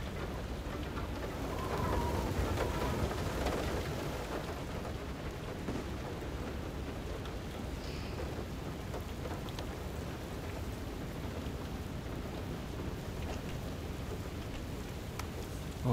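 Hail and a storm in the game FAR: Lone Sails, with steady rain-like pattering and a low rumble lasting throughout at moderate loudness.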